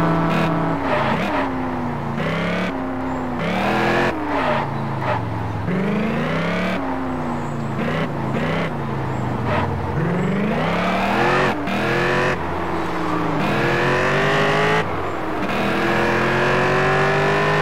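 A Stingray 69 car engine in Test Drive Unlimited revs repeatedly, climbing through gears with sharp shifts and drops, loud and close for the whole stretch.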